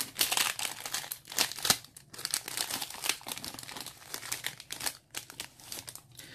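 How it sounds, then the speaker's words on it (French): Plastic foil wrapper of a Yu-Gi-Oh booster pack crinkling and crumpling close up as it is torn open, a dense run of crackles with short pauses for about six seconds. "On va donc s'ouvrir le dernier booster."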